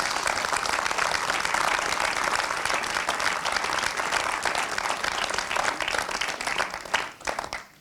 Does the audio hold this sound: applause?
yes